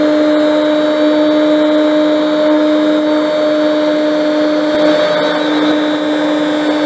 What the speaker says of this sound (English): So I'm just going to trim those off on the bandsaw